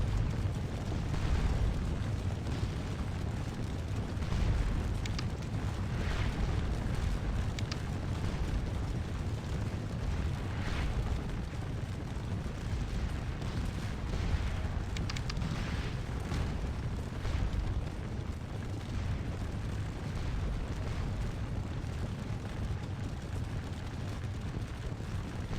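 Artillery explodes in a video game recreation of the Battle of Quatre Bras, heard as a dense, continuous rumble of booms and blasts with no clear gaps, loud and steady throughout.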